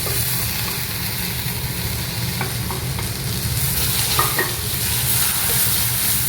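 Tomato paste, made from two ground tomatoes, stirred into a hot pan for a Kerala quail egg curry, sizzling steadily with scraping spoon strokes, close and continuous with no talk.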